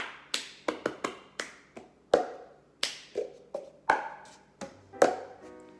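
Body percussion of hand taps, snaps and claps played in a steady rhythmic pattern, about a dozen crisp sharp hits that sound close and fairly loud, with no voices over them.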